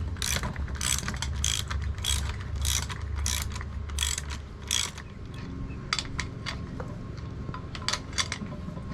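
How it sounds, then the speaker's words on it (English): A spring compressor being ratcheted down on the front lowering springs of an Abarth 595 Competizione strut: repeated sharp metallic ratchet clicks in quick bursts, close and fairly loud, then lighter scattered clicks. "Now we'll get the spring compressor. We'll compress these springs"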